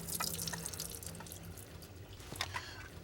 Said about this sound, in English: we're gonna crack both of these open, so we can drain out the water, because we don't want the water